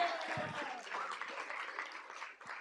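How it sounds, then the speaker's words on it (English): Brief applause at a school board meeting, a room of people clapping in a fairly dense burst that holds briefly and softens, with some talk mixed in. "so give him a big hand clap for that one"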